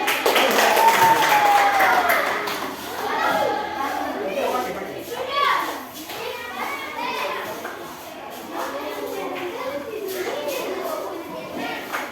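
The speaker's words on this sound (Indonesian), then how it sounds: "Oke, tepuk tangan." Schoolchildren applaud in a classroom during a lesson game, a lively burst of clapping mixed with excited children's voices and chatter that carries through the whole stretch.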